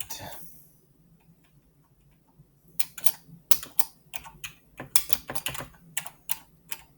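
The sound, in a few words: typing on a computer keyboard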